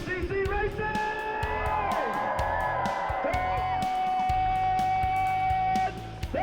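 Crowd at a Limestone 100 GNCC off-road motocross race cheering and whooping loudly, steady roaring voices under blaring horns and revving engines, with an announcer's voice mixed in.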